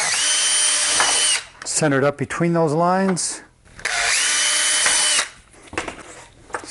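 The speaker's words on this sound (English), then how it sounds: "Drill a couple pilot holes" A power drill bores pilot holes in a wooden board, two loud sustained whirring bursts near the microphone separated by someone talking.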